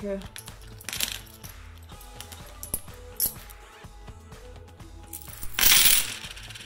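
Small coins clink and rattle as they are counted and exchanged for change, with scattered light metallic taps throughout and a louder jingling burst near the end.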